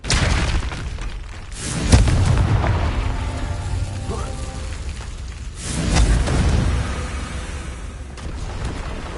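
Confringo blasting spell explosions in Hogwarts Legacy, two loud booming blasts several seconds apart, each followed by rumbling decay.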